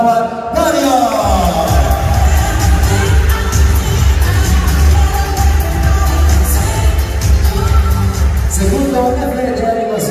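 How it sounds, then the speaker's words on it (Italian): Crowd at a hotel entertainment show in Playa de las Américas, Tenerife, breaks into loud, sustained applause and cheering that runs steadily for about ten seconds, with music and voices mixed in. "e gli diamo un grande applauso, anche questo applauso, big applauso, brava Mario"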